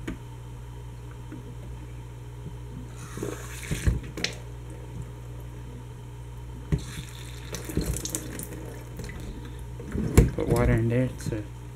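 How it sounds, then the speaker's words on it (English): Water pours from a tap into a Hydor aquarium canister filter to prime it, in bursts that start and stop with brief clatter between them, close by and moderately loud against a low steady hum. "Water in there to try to get it to prime easier."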